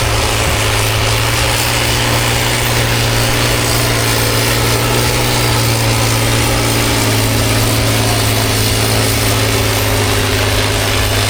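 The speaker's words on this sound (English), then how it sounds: "International tractor with Turkish Sprague engine." An International tractor fitted with a Turkish Sprague engine runs steadily at a steam rally in Worcestershire, a loud continuous drone with a constant low hum and no break for the full eleven seconds.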